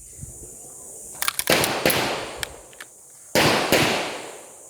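A .40 caliber pistol fires in a shooting competition setting, with sharp close cracks in quick pairs followed by a louder single report, each shot trailing into a brief hissing decay.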